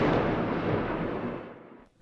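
A single heavy boom from a missile strike on Kyiv, a loud low rumbling blast that decays over about two seconds into quiet.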